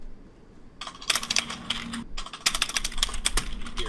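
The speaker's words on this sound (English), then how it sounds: "Serious typing." Brisk keyboard typing in two bursts, clattering keys with a short pause between, fairly close and steady with no talking.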